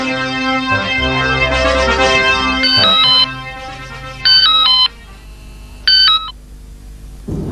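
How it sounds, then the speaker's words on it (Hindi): A telephone plays a melodic ringtone, then three separate bursts of paired electronic ring tones sound loud and close, with short gaps between them. "जरा फोन देना भाई, मैं खुद ही कर लेता हूं।"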